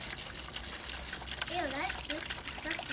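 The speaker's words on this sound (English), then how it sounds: "the idea is we pour all of this in there like that" Rust remover liquid poured over metal fuel system parts from a Mercedes R107 280SL, a faint steady trickle and gush of liquid running under voices.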